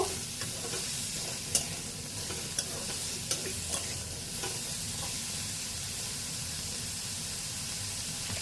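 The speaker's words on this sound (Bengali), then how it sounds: "পটলটাকে তাড়াতাড়ি গলানোর জন্য আর একবার নাড়িয়ে নেব" Pointed gourd with shrimp fries in a pan under a constant sizzle. A utensil stirs and scrapes it, with a few sharp clicks standing out from the steady hiss.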